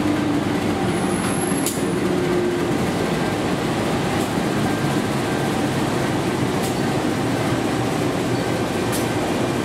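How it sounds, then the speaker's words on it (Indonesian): The Airlangga 236 train rolls into track 4 at a busy station, a continuous loud rumble of wheels and carriages close by, with a faint high squeal and a few brief clanks over it. "Lanjut jalur 4 masuk kereta api Airlangga 236"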